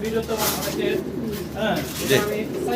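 Jacobin pigeons coo in soft, throaty, rolling calls close by, with low voices murmuring in the background.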